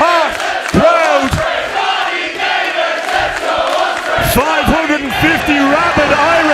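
Around 550 Irish wrestling fans cheer and roar as two wrestlers lock up at an OTT anniversary show, a loud, continuous crowd din punctuated by sharp shouts and whistles, with a commentator talking over it.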